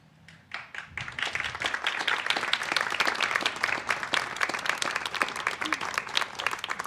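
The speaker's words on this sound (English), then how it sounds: "If you guys could give them an applause, a round of applause." Applause from an audience at a domestic violence awareness lighting ceremony rises after a quiet start into steady, moderately loud clapping with a few distinct sharp claps, continuing evenly to the end.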